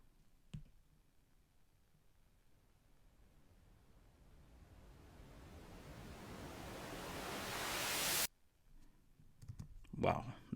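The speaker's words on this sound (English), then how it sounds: "I decided to add some extra effect, which is like a very slow white noise" A slow-building white noise swell made in GarageBand on iPad rises steadily in brightness and volume for several seconds, then cuts off abruptly, leaving quieter sounds afterward.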